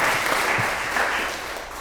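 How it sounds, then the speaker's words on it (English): A brief burst of group applause from attendees at a morning business session, dense clapping that tapers slightly toward the end. "please give your guys themselves a round of applause"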